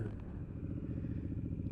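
A Honda Africa Twin DCT motorcycle engine hums faintly while riding, a low steady rumble over wind with a brief shift in tone as the automatic gearbox changes gear.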